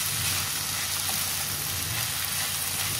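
Onion and tomatoes frying in a pan for chicken gravy make a steady, loud, close sizzle that holds without a break, no talking.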